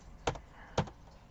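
Two brief, crisp clicks of computer keys about half a second apart, close and distinct against a quiet room with no voices.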